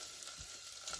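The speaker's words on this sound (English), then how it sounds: "I'm not going to let you have to stare at onions frying" Softened onions with freshly added chilli sizzle steadily in a hot pan, a soft, even frying hiss with a faint stirring scrape, fairly quiet and with no voices.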